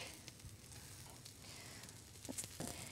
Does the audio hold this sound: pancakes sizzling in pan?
yes